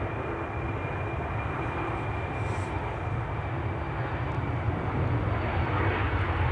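An Embraer 190 airliner takes off at Amsterdam Schiphol, its jet engines producing a steady, loud roar with a faint high whine, continuous throughout and without voices.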